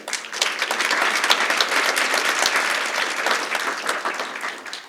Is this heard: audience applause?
yes